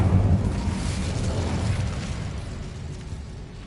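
In Hogwarts Legacy, the Incendio fire spell is cast with a loud, close burst of whooshing flame that starts strong and tails off into a rumbling roar.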